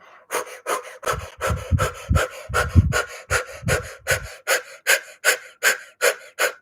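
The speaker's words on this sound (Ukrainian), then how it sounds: "Ось таким чином швидко, швидко, швидко. І при цьому дихати." Fast rhythmic panting breaths during a dynamic meditation exercise for anger and helplessness, pushed through the mouth from the solar plexus, about sixteen sharp regular huffs close up and steady, heavier in the first half, with no talking.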